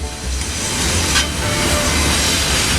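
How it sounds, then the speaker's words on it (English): A long intermodal freight train, mostly foreign containers, passes steadily in West Virginia with a loud, continuous rolling rumble and faint wheel clatter, no voices. "This intermodal is as long or longer as some of the ones on the Mohawk sub."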